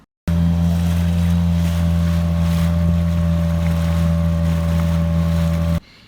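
A small dinghy's outboard motor on the water drones steadily at a constant low pitch, loud and close, running for several seconds before cutting off abruptly.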